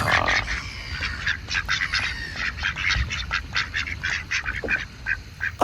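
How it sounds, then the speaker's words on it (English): Ducks on a small park pond quack in quick, repeated bursts, several birds calling close and loud over a steady background hum with no talking. "There's your first lot of ducks."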